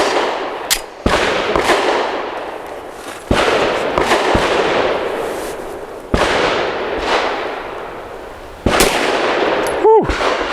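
Four loud, close pistol shots from an Arex Delta firing 68 grain +P solid copper defensive rounds, spaced a few seconds apart outdoors, each crack followed by a ringing tail, with a brief muffled electronic beep at the end.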